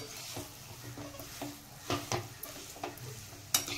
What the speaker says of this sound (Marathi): थोडासा मसाला सगळीकडे व्यवस्थित लागेल असं परतत राहायचं, थोडंसं हलवत राहायचं